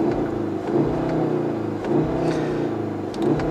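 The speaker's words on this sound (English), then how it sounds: "engine sounds pretty nice. It's a very subdued, muted growl." A 2016 Volkswagen Golf R with a six-speed manual starts up, its engine settling into a steady, subdued and muted growl close by, with no voices over it.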